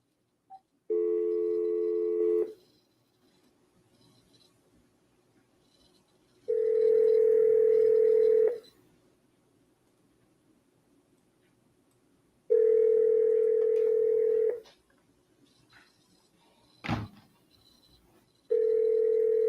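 Repeated electronic telephone tones during a string of cold calls: four steady ringback bursts of about two seconds each, separated by quiet gaps, with a brief click between them and no speech.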